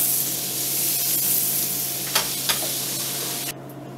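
About a tablespoon of butter sizzles steadily in a hot pan as it is stirred, a continuous close frying hiss with a couple of soft scraping knocks before it cuts off near the end.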